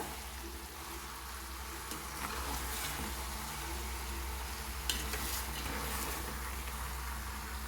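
A spoon stirs a thick fish curry mixture with salt and turmeric in a pan, a steady low sizzle underneath, a few scraping strokes standing out, close by with no talking.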